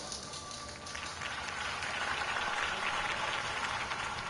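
Crowd applause at a Gotham campaign rally for Harvey Dent, a dense continuous wash of many hands clapping, steady and somewhat distant.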